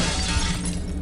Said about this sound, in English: R to slightly touch and break the glass. To break glass, yes.